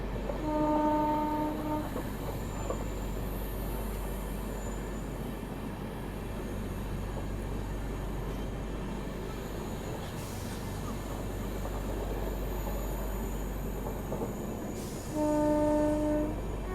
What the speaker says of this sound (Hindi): नगावली एक्सप्रेस संबलपुर नांदेड़।